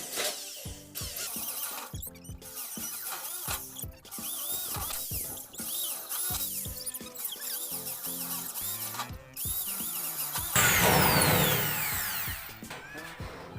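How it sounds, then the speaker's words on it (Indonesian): An electric drill bores holes one after another through the corroded metal body of a Samsung top-load washing machine, with repeated whining bursts and pauses between them, loud and close. "lalu kita bor satu persatu"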